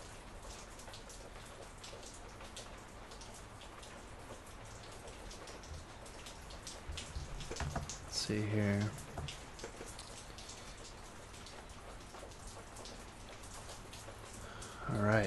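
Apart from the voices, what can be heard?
rain falling outside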